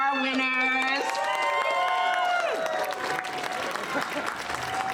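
Clapping and cheering from a convention crowd for cosplay contest winners sound under an amplified voice and sustained musical tones, with the applause thinning toward the end.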